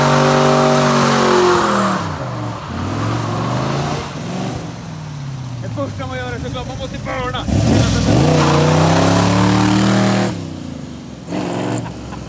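De Tomaso Pantera GTS V8 doing a burnout, its engine revving hard in repeated rising and falling surges, loud and close, with tyre noise mixed in.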